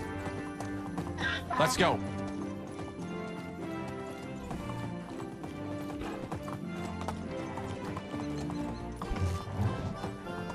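Horse galloping under a rider in the video game Medieval Dynasty, steady rhythmic hoofbeats with a sharp neigh early on, mixed under game music while a man urges the horse on with calls.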